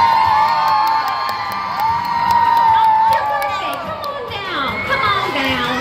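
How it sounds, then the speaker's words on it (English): A crowd of children cheers, shouts and whoops loudly and continuously during a live show at a shopping mall, with an excited, busy din of young voices throughout. "before you all yell and scream, you have to be okay with getting a little bit wet"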